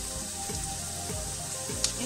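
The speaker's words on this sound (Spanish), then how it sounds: "Sofreímos nuestras cebollitas. Vamos a sacarle el color a fuego alto" Onions sautéing in a pan over high heat give a steady, close sizzle, with a few soft stirring scrapes and a brief bright tick near the end.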